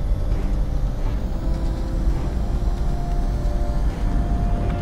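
A fighter jet taking off in Ace Combat 7, a steady, loud engine roar with broad rushing noise holding evenly throughout, no voices over it.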